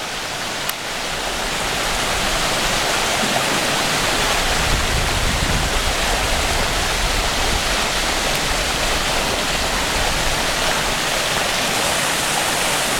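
Loud, steady rushing water roars continuously and close by, a dense wash of noise filling the whole stretch without pause.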